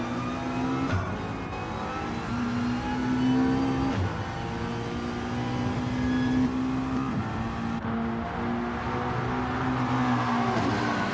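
Race cars in a sim racing league multi-class race, including a McLaren, Porsche and Subaru, roar steadily with high engine whine and gear-shift pitch drops. The sound is loud and continuous, with no talking.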